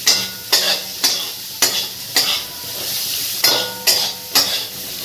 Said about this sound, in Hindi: इसको अच्छी तरह भूजेंगे तेल में